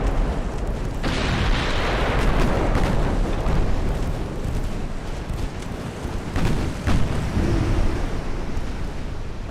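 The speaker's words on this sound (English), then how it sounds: "Oh, I just got hit by a torpedo." A torpedo striking a warship in Ultimate Admiral: Dreadnoughts, a heavy explosive boom with rushing water and sea surge, loud and close, followed by rumbling blasts and splashes that continue and fade.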